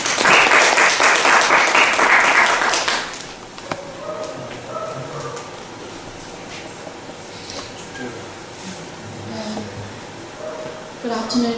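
Audience applause at a talk on the Vietnam War welcomes a speaker: a dense, loud burst of clapping for about three seconds that cuts off abruptly, followed by a voice speaking over a quiet room.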